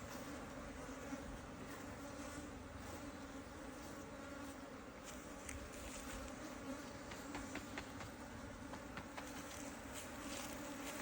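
Steady, dense buzzing of many honey bees around an open hive during honey harvesting fills the scene, a continuous close drone with scattered sharper wingbeats and no voices.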